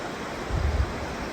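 The Orge River running through the small French town of Quillan, a steady broadband rush of flowing water with a slight low swell midway, with no talk.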